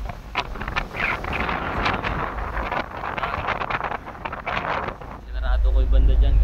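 Strong wind buffets an open ferry deck on a rough sea crossing toward Dapitan, a steady roar rising louder near the end, with a voice talking over it.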